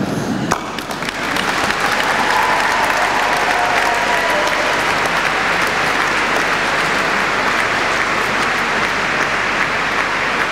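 Graduation ceremony audience in a university hall applauding the graduates' parents and friends, sustained dense clapping from a large crowd filling the space, steady and loud throughout with no voices.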